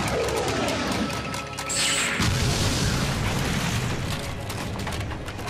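In the anime Boruto: Naruto Next Generations, countless exploding tags set off by a sword detonate: loud, dense blasts and crashing booms roll on continuously, a heavy chaotic barrage of explosions filling the whole stretch.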